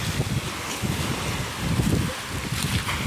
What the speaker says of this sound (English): it is a lot windier than this morning as well